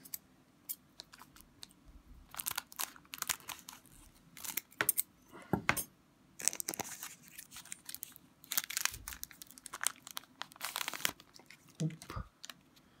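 A foil pack of hockey trading cards is torn open by hand, with bursts of close crinkling and ripping separated by short quiet gaps.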